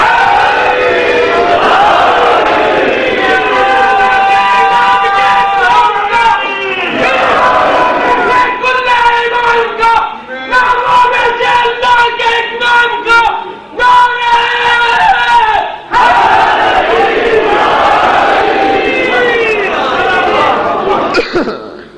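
A large religious gathering chants slogans loudly and continuously, many voices rising together in repeated rhythmic shouts with brief breaks between rounds.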